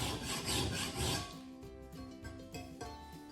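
A metal file rasps along the edge of a No.80 cabinet scraper blade in a woodworking shop, with a close, gritty scraping burst followed by ringing metallic tones.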